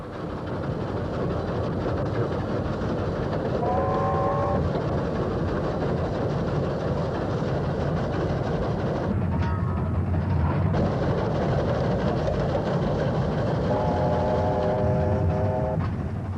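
A steam locomotive, the 3801, rumbles along steadily with a continuous low roar, and tonal whistle-like hoots sound twice, midway and near the end.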